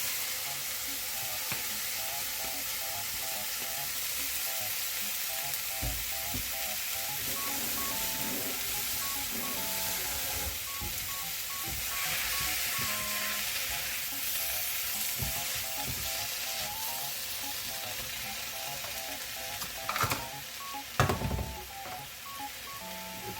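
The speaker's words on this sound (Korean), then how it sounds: "그럼 여기다가 김치를 볶아주겠습니다" Kimchi stir-frying in oil in a pan for kimchi fried rice, a steady loud sizzle with scraping stirs throughout and a few sharper clatters late on.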